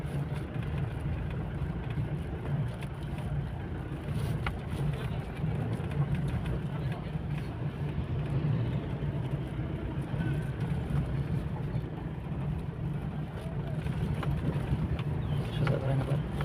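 A car rolls along in third gear with a low, steady engine hum under intermittent talk from people inside.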